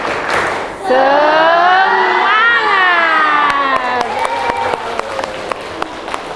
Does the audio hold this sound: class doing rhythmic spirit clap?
yes